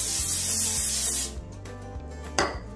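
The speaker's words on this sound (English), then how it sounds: "I'm gonna spray it with our nonstick spray" A continuous hiss of nonstick vegetable oil cooking spray for about a second, coating an air fryer, then it stops, leaving faint clicks and a brief rustle nearby.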